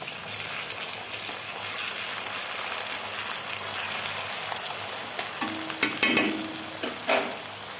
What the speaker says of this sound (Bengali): রসুন বাটা দিলাম, ভালো করে ভেজে নিচ্ছি